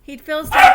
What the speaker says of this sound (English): that was a dog barking.